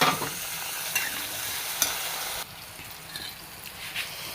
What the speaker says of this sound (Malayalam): ഇതാ കുറച്ച് കടുകിട്ട് കൊടുത്തു ഉള്ളി ഇതാ ഉള്ളി തക്കാളി പച്ചമുളക്